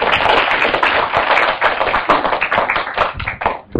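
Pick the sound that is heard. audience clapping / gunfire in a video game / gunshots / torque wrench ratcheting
audience clapping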